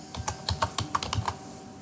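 A short burst of about ten quick key presses on a computer keyboard, close and fairly quiet, clacking in an uneven rhythm.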